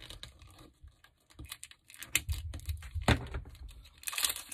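Silver roping for a Christmas ornament is snipped and handled up close, giving quiet crinkly rustles and a few sharper cutting crunches in irregular bursts.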